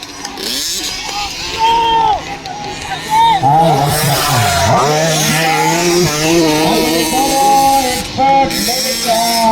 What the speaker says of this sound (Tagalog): So gigamit ni Rayon ng motor ka Tyler